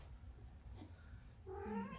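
A cat meows once near the end, a short rising-then-falling cry that follows a stretch of quiet room noise with a soft knock.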